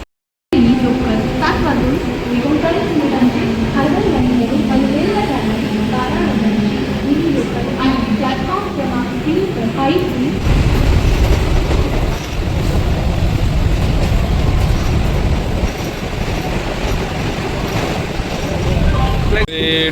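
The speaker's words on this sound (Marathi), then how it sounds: "आता बघूया आपली ट्रेन येईलच लवकर" A train rumbles and clatters nearby as it pulls into the crowded Thane station in Mumbai, with a crowd's chatter and announcements mixed into the busy platform noise.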